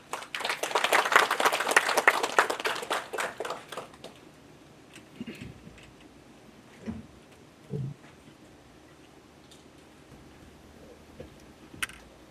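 An audience applauds to welcome the Supervisor of Elections at a formal launch event, a burst of many hands clapping for about four seconds that quickly fades, then scattered faint thumps and rustles in a quiet room.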